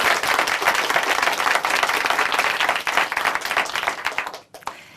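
A church congregation at a Chuncheon testimony program applauds, a full sustained burst of many hands clapping that fades out near the end.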